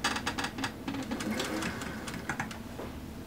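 A sewing machine stitching fabric for a wedding dress runs in a steady, fast mechanical chatter of needle strokes, close and continuous with a low motor hum beneath, and no voices.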